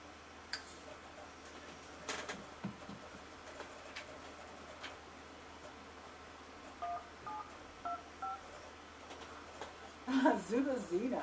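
Cell phone keypad tones in The Sims 3: Pets come as a short run of quick electronic beeps near the end. Sparse ticks and soft game ambience fill the quiet stretch before them.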